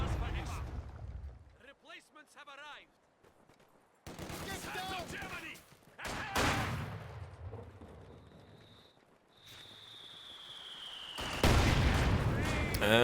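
Artillery and small-arms fire in the Company of Heroes 2 real-time strategy game, with 120mm mortar shelling among repeated loud bursts and booms, a rising whistle, and gunfire rattles mixed with battlefield noise.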